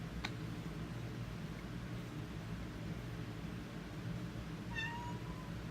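A pet cat meows once, briefly and fairly faint, near the end, over a steady background hiss.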